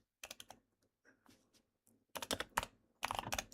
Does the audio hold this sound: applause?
no